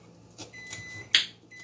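A phone alarm for a race sounds in a kitchen as a few short electronic beeps, separated by brief gaps and ending with sharper bursts, heard close and fairly loud.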